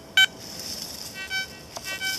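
A Garrett ATX metal detector gives a short, sharp electronic beep followed by fainter, softer tones while checking a target in the field.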